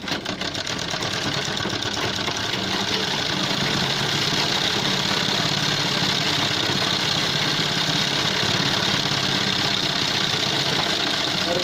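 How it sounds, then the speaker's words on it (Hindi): A sewing machine runs steadily while a one-foot line of stitching goes along the collar of a men's shirt, a continuous close mechanical whir with no pauses and no talking. "अब कॉलर के ऊपर यहाँ से दोस्तों 1 पैर की सिलाई लगाएंगे"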